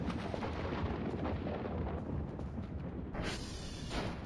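Explosions in the horror game Voices of the Void, a dense, continuous booming rumble like distant artillery fire that rolls on without pause for the whole stretch, with no talking over it.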